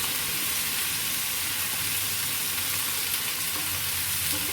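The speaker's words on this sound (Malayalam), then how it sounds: "മസാല എല്ലാ ഭാഗങ്ങളും എത്തുന്ന രീതിയിൽ നന്നായി ഒന്ന് മിക്സ് ചെയ്തെടുക്കാം" Masala stirred into raw mango curry in a hot pan gives a continuous, even hissing sizzle, fairly loud and close, with no pauses or voices.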